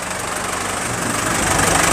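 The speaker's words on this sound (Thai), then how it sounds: "อันนี้จะเป็นคูปต้า L 2 6 0 5" A Kubota L2605 four-wheel-drive tractor with a three-cylinder diesel engine runs steadily at idle nearby, a dense, even, knocking rumble heard alone.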